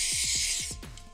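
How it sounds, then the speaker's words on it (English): WD-40 penetrating oil hisses from an aerosol can in a sustained bright spray, then cuts off, over a rhythmic series of low sweeping thuds; no one speaks. "Spray with WD-40, so it penetrates, makes everything nice and looby"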